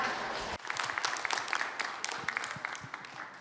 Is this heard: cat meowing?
no